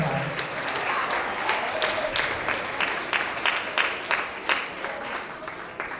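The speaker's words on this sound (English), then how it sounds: "So a round of applause." An audience at a school merit roll ceremony claps in a room, a sustained round of applause with some individual claps standing out, loud at first and slowly thinning.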